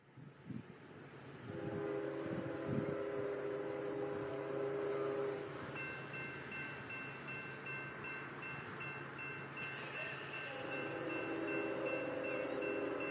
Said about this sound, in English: I hear the train coming.